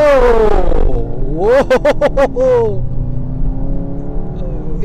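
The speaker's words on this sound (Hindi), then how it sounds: "इंजन की आवाज सुन रहे हो दोस्तों आप लोग, पेट्रोल की एकदम रोर की दोस्तों कार में आवाज आ रही है।" Skoda Octavia RS 245 petrol engine in sports mode, heard from inside the car as it revs hard through several quick rising bursts, rpm swelling and dropping between gear changes, with someone speaking briefly over it.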